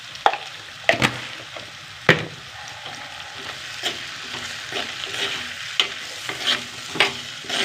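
Coriander and chili powder fry in oil for a fish curry while being stirred, with a low sizzle broken by repeated scraping and knocking of a spoon against the pan.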